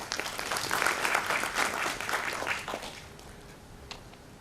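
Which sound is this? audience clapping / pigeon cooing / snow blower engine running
audience clapping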